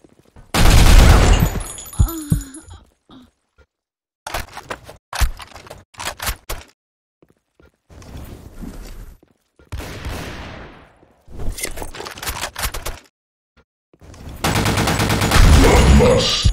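Gunfire in the online shooter Blackshot, sharp bursts of automatic fire and single shots in separate loud clusters with silent gaps between them, close and punchy.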